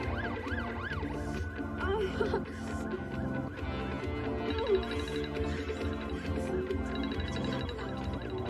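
Ambulance siren wailing in a Hindi film scene, a rising and falling tone that runs steadily through the clip under music and background voices.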